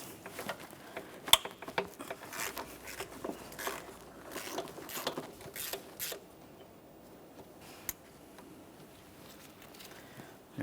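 Faint, scattered clicks from a ratchet and 13mm swivel socket loosening an intake manifold nut on a 2007-2017 Jeep Patriot 2.4L four-cylinder, with a few sharper taps among quiet mechanical rattling.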